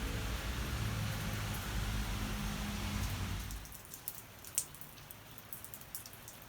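Steady rain falls in the early evening, a dense broadband hiss for about three seconds that then drops away to lighter scattered drips and patter; no voices.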